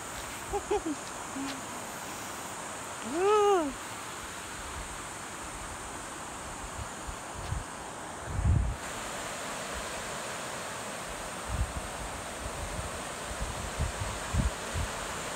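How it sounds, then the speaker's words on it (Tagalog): Steady outdoor breeze on Mount Halcon, Oriental Mindoro, with a broad airy hiss, a few low bumps and a brief hooting call in the background. "sarap ng simoy ng hangin talaga"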